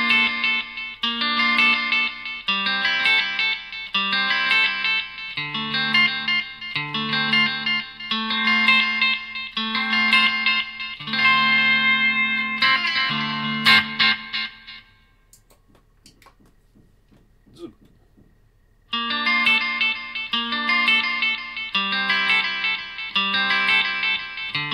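Electric guitar phrases through a Line 6 HX One delay pedal, repeating echoes trailing each note; playing stops briefly, leaving a faint fading tail, then resumes.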